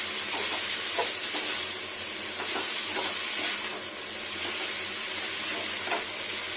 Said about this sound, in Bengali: এবার অনেকক্ষণ ধরে ভালো করে কষাবো সুন্দর করে।